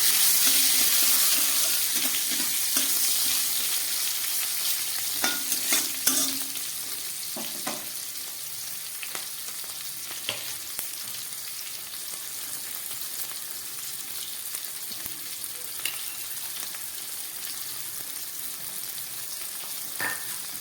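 Tomato and capsicum frying in a pan for a vegetarian curry, a steady sizzle with frequent spoon scrapes and clinks, louder and busier at first, then settling into a softer even crackle.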